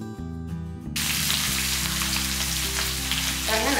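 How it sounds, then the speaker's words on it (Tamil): Garlic and ginger fry in hot oil for a tomato thokku, a dense loud crackling sizzle that starts abruptly and continues steadily, over a background music tone. "நல்லா பொரிஞ்சிருச்சு"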